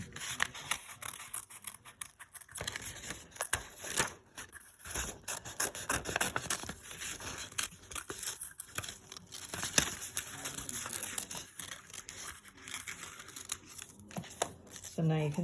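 Scissors cutting paper shapes at a table, a faint run of irregular snips, rustles and crinkles spread across the whole stretch, quiet and close with a voice talking intermittently over it.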